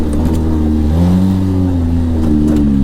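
Engine of a 2012 Polaris RZR 800 S side-by-side off-road vehicle, a loud close mid-pitched drone that climbs in pitch as the revs rise, then holds steady on a trail.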